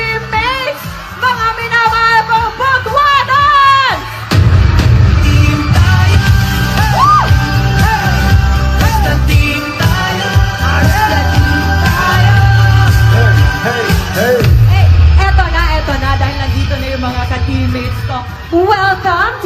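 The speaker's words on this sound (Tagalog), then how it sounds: "Isang malakas na hiyawan pagdating ng ating mga team!" A large crowd at a live event roars and yells with whoops and shouts as the teams arrive, loud and sustained for many seconds, with an announcer's voice carrying over the din.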